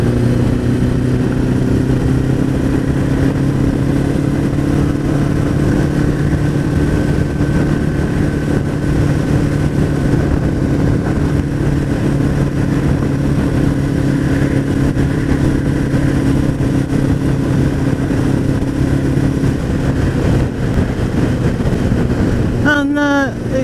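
A Suzuki Bandit motorcycle engine runs steadily at idle for the whole stretch, a loud, continuous low drone with an even hum, close by, and no one talks over it.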